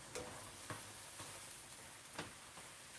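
Peppers, onions and beef frying on a griddle for cheesesteak sliders, giving a faint, steady sizzle with a few soft taps and scrapes.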